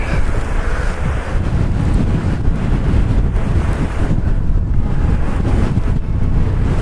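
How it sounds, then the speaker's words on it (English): Strong wind on open Northumberland hills buffets the microphone in continuous loud gusts and rumbles, with no voices. "Wow, it's windy."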